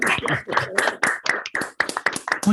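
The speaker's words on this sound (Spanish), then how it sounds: "le damos un aplauso bien fuerte a Feliciano" A small audience at a lecture-style conference claps for the speaker, irregular close handclaps in quick bursts, with voices briefly mixed in.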